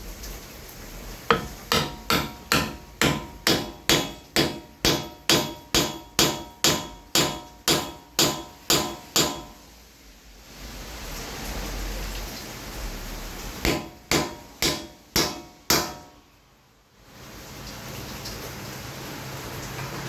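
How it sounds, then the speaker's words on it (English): A seal driven into a Rough Country rear bumper part for a Jeep Wrangler JK with a tapping tool: about twenty sharp, rhythmic metallic taps, close and loud, a pause, then a few more taps. "we're going to tap it in using our tool"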